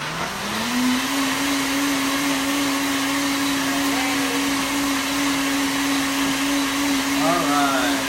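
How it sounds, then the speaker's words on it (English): A Vitamix blender runs continuously at high speed, a loud steady motor whine with a sustained pitch that rises briefly at the start, close by and alone with no talk. "we're using the Vitamix, which is, I call it Ferrari blenders"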